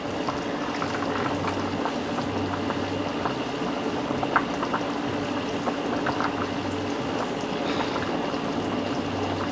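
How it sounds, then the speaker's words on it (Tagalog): Chicken adobo boiling in a pot, a steady close bubbling and gurgling simmer that runs continuously without any talk. "At ayan, kumukulo na siya guys."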